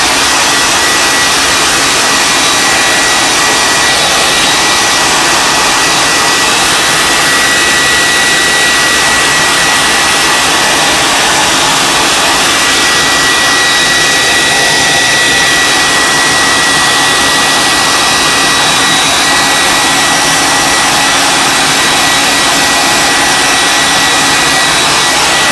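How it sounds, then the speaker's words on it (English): A hair blow dryer runs continuously at full power while drying a painted tabletop terrain board, a loud, steady, close whooshing roar with no break. "I'm gonna use the ye old blow dryer to speed things up a little bit"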